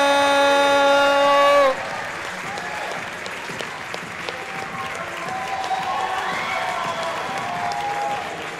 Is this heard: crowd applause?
yes